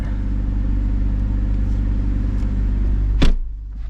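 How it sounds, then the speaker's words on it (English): A single solid door thump from a 2021 Toyota Supra lands near the end, over a steady idling engine hum, followed by a quieter rumble. "Oh, that was a solid door shut."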